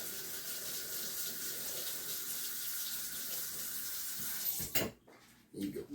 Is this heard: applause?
no